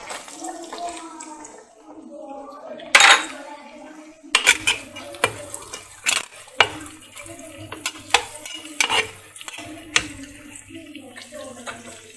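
Onions and capsicum are stir-fried in a pan for Chinese chilli chicken, with a utensil clattering and scraping against the metal in irregular bursts. A voice is heard at the start.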